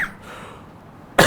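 A single sharp cough bursts out near the end after a quiet stretch of room tone.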